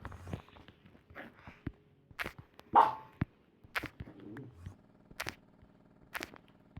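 Short, scattered dog barks from a survival Minecraft game ring out sparsely amid quiet gaps and soft clicks, with no one talking.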